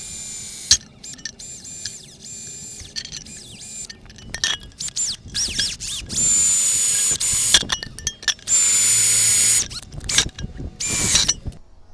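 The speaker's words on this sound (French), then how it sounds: "Et voilà, on va percer." Power drill boring holes, with bursts of high steady whine alternating with clinks, handling knocks and short starts and stops, close and fairly loud.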